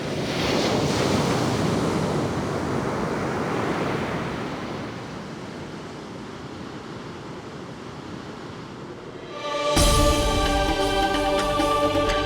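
Sea waves washing onto a shore in Mumbai, a continuous roaring surge with heavy wind buffeting the microphone, easing slightly midway before a louder gust-laden burst near the end.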